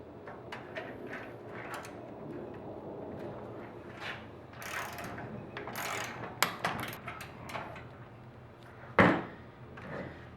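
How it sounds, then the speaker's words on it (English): Torque wrench set to 90 inch-pounds tightening a clamp onto a metal roof, producing repeated ratcheting clicks and scraping metal sounds outdoors over a steady background hum, ending with one sharper click. "we've got our torque wrench here set to 90 inch-pounds"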